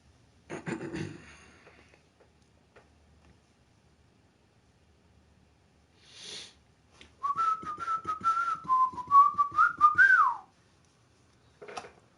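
A person whistles a wavering, uneven tune for a few seconds, fairly close and alone, with scattered soft handling noises before and after.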